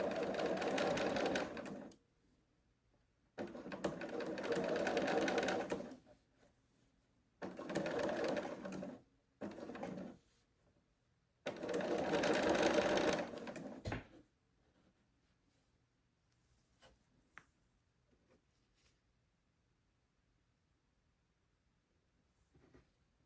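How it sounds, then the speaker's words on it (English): A sewing machine stitches quilt block fabric in several bursts of rapid whirring, each a few seconds long with short pauses between, close and clear, then stops and leaves near silence. "I've got my knee lift on my machine, so with my right knee, I can just raise and lower the foot."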